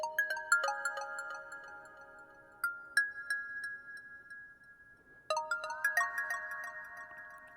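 A simple electronic melody built in FL Studio, with bright bell-like synth notes in short phrases separated by deliberate gaps of silence, including a call-and-response figure that steps downward; no voices.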